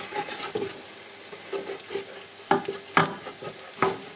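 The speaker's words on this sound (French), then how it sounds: "Je remue bien mon huile pour que les herbes, pour que l'huile s'imprègne des herbes." Oil and herbs stirred in a hot pan with a spoon, giving soft sizzling frying under a series of irregular scraping strokes, close and moderately loud, with no voice.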